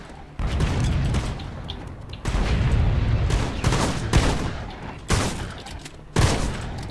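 Bursts of close, loud gunfire in The Mean Greens - Plastic Warfare, a toy soldier shooter, with rapid volleys and sharp booms arriving in several clusters.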